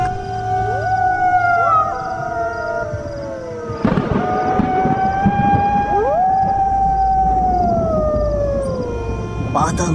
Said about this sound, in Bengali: কানে ভেসে আসছে শিয়ালের ডাক